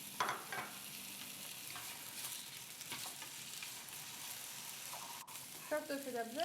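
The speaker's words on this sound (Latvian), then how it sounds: "Apcepu karstā eļļā vai nu taukos." Cut potatoes fry in hot oil with a continuous close sizzle and crackle, punctuated by a few stirring scrapes and brief clatters.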